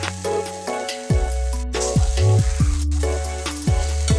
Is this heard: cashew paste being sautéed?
yes